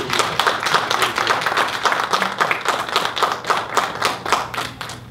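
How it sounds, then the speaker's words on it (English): A crowd claps steadily, a sustained round of applause with many hands beating in a fairly even rhythm, loud and close. "please give yourself and your family a round of applause"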